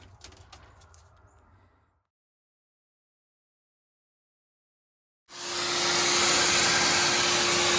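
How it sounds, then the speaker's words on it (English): A shop vacuum sucks up loose paint flakes from the trunk of a 1968 Ford Thunderbird, starting suddenly after a silent gap and running as a loud, steady broadband roar with a constant whine, preceded by faint rustling. "getting all the stuff vacuumed up"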